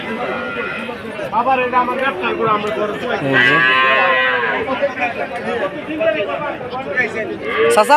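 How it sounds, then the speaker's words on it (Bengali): Dairy cows moo at a busy cattle market in Chaumuhani, Brahmanbaria; one drawn-out, fairly close moo rises amid steady crowd chatter, with people talking over the animals throughout. "অনেক সুন্দর সুন্দর জাতের গাভী আছে"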